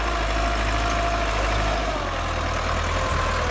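A Massey Ferguson 385 tractor, rigged with an 18-disc harrow, idles nearby with a steady, loud, low diesel drone and an even mechanical hum, alone and unbroken throughout.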